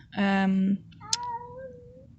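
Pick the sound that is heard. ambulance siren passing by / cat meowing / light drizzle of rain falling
cat meowing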